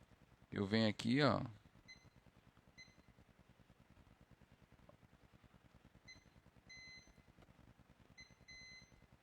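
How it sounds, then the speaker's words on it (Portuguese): A multimeter's continuity beeper sounds on an iPhone 7 Plus logic board during a backlight repair, giving a few short, thin high-pitched beeps in separate bursts. It starts after a brief stretch of speech, over a steady low buzz. "Ó, um bipou."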